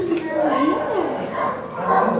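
A pitbull on a leash during a first heel-walking training session, giving short bow-wow barks mixed with whimpers and yips, close by, over steady background noise with people talking.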